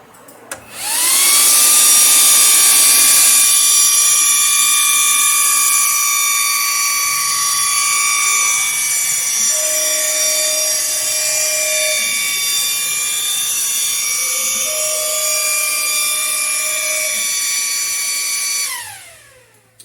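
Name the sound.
laser cutter cutting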